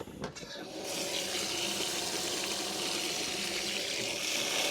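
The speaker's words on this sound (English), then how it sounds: "We'll get that filled up, ready to go." Car wash soap mixing in a bucket as water pours in from a tap or hose, a steady rushing fill that stays even after a short splashy start, close to the listener and heard alone.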